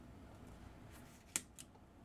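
Small clippers snip the tree supports off a 3D printed miniature, giving one sharp close click and then a fainter second snip against a quiet room.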